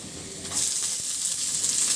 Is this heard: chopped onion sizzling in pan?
yes